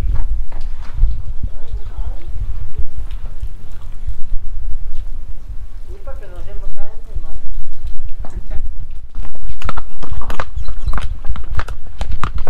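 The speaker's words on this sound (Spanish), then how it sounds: "Vuelta en caballo." Horse hooves clop during a horseback ride in the Combeima Canyon in Tolima, with uneven footfalls under wind and people talking nearby.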